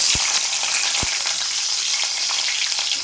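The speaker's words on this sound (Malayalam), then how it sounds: "കടുക് പൊട്ടി വെളുത്തുള്ളി, ചുമന്നുള്ളി അങ്ങോട്ടിടുക." Garlic and shallots frying with popped mustard seeds in hot oil, a loud dense continuous sizzle close up, with a couple of dull knocks near the start and no voices.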